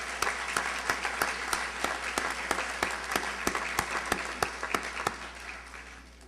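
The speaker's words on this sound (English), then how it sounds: "Please give them a big round of applause." Audience applause at a high school winter sports awards ceremony, honoring volunteers; clapping with a run of sharp, evenly spaced loud claps carries through, then tapers off toward the end.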